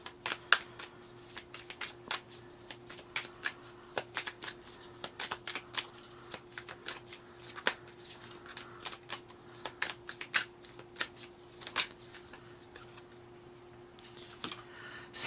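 Tarot cards shuffled by hand in a steady run of crisp riffling snaps and flicks over a quiet background hum, close and continuous, with no talk.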